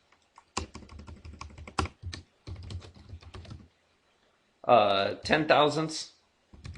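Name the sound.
typing on a computer keyboard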